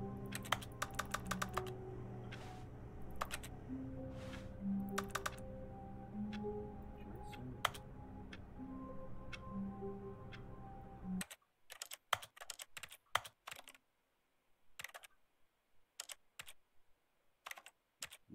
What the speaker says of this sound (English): Smash any buttons on the keyboard.